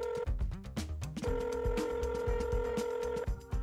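A telephone call goes unanswered, with electronic ringing or dialing tones repeating in a steady electronic pattern, sustained and fairly clear, with no talking.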